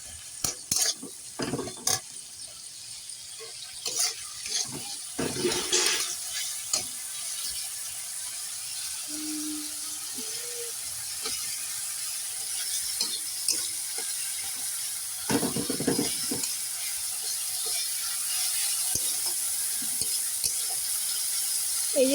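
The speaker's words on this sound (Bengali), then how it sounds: "এই যে আদা জিরে টমেটো চিনি দিয়ে মশলাটা কষিয়ে নিচ্ছি।" Spice paste of ginger, cumin, tomato and sugar being stirred and fried in a pan, giving repeated scraping, clicking strokes over a steady sizzle with no talk.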